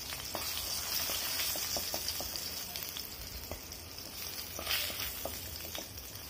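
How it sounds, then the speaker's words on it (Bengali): Hilsa fish pieces fry in hot oil, giving a continuous, fairly soft crackling sizzle with scattered small pops throughout, heard alone at close range. "দেখুন আমার মাছগুলো ভাজা হয়ে গেছে।"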